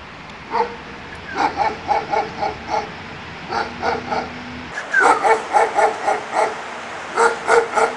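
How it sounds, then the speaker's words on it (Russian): A guard dog on a leash at a guarded abandoned building in Odessa barks at people, giving about a dozen loud, close barks in short bursts and rapid runs, with no talk. "она на привязи, но она начинает гавкать,"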